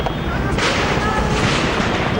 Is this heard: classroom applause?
no